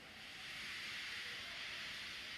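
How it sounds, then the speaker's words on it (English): A toy steam engine, Gordon, lets off a steady, airy hiss of steam that holds at an even level, soft and close, with no voices. "He just let off steam feebly."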